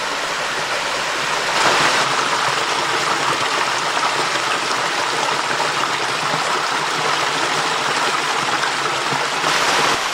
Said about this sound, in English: now we're back down at creek level, which I like.